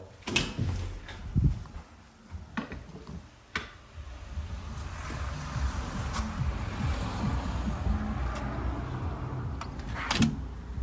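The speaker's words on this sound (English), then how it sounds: "you just need to make sure the door is actually closed, which it wasn't, so you need to make sure to press it, and then you need to lift up the handle" A door is pressed firmly shut and its handle lifted to lock it while leaving a hall, giving a few sharp knocks and clunks spread over a quiet, steady room hum, with one final thud near the end.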